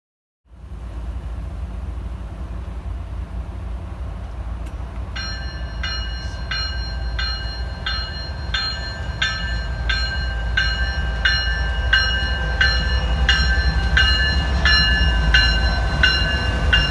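A Canadian National freight train rolls past on the tracks with a loud steady rumble throughout, and a regular clacking of wheels over rail joints joins in after a few seconds and builds as the cars pass close by.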